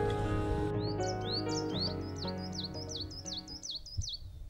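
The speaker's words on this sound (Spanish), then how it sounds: "se renuevan paulatinamente los sonidos del bosque, que ahora se componen de un incesante coro de trinos" Birds in a forest trill and chirp in a lively chorus of repeated rising notes, tits and crossbills among them, close and fairly clear against a low steady background.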